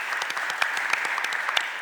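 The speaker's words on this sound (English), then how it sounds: "Give him a round of applause" Audience applause at a city council committee budget hearing, a room of people clapping steadily for a recognized guest, with scattered louder claps standing out over a dense, moderately distant patter.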